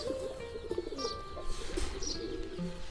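Faint, distant coos and a few light chirps come from fighter pigeons, including a fighter male and a cross with a black-necked bird, against a quiet, steady background with no one speaking.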